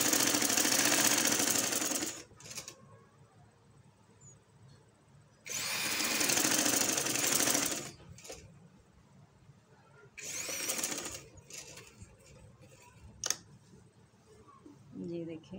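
A sewing machine stitches a neck strip on a garment in three loud, fast whirring bursts separated by quiet pauses with faint handling clicks.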